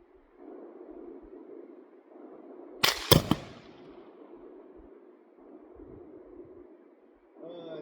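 A close, sharp gunshot from a handgun firing a Black Powder XTP +P load, with a quick second report and crackle right after, standing out from a steady outdoor background rumble.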